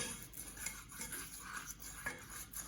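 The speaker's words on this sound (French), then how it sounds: "Donc fouettez tout le temps, tout le temps," A whisk scrapes and taps quietly against a pan while flour is beaten into melted margarine for a vegan recipe, soft continuous stirring with a few light metallic clicks.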